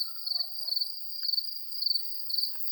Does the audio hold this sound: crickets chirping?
yes